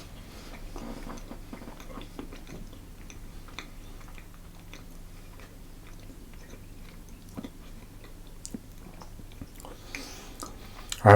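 Someone quietly chews a homemade chocolate oat bar with peanut butter, giving faint, scattered crunchy clicks and soft mouth sounds at close range over a low background hum, with no talking.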